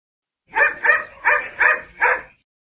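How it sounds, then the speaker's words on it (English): A dog barks five times in a steady, evenly spaced series, loud and close, with nothing else around it. "Dog."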